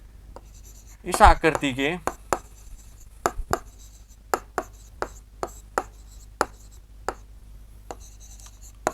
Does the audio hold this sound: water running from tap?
no